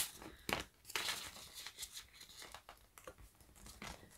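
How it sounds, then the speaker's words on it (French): A paper banknote is handled and slipped into a paper envelope, giving several close, crisp crinkles and rustles at a quiet level with no talking. "je viens de prendre un petit billet et je viens le mettre dans mon enveloppe"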